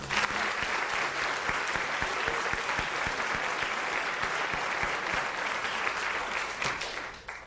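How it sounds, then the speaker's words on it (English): An audience at a Distinguished Young Women scholarship pageant applauds the contestants with steady, sustained clapping, individual sharp claps standing out near the front, fading at the very end. "let's give all of our contestants a round of applause"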